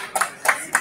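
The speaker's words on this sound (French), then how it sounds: "Vous pouvez vous applaudir aussi" A conference audience applauds in a few brief, sparse bursts of clapping, three quick clusters spaced apart, close and fairly light.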